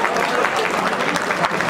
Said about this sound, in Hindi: ताली बजाकर उनका सम्मान करें।